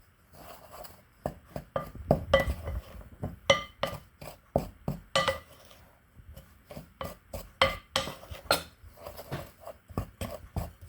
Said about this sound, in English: we're just going to give this a little stir for a second. Get all those dry ingredients mixed together